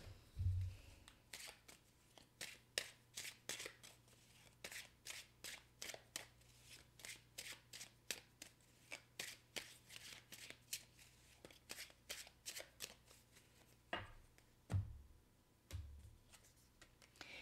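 Tarot cards being shuffled, a steady run of quick crisp riffling snaps up close and fairly quiet, with a couple of low thumps.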